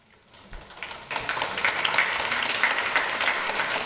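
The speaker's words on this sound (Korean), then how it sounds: "우리 박수로 환영하겠습니다" A church congregation claps to welcome a newborn child during a Sunday service, the applause starting sparse and swelling into steady, sustained clapping that fills the room.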